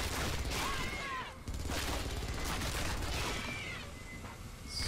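The smart gun in the Aliens vs Predator video game fires dense, continuous automatic bursts in a loud, sustained fusillade, with a short pause partway through and faint sci-fi electronic chirps over the gunfire.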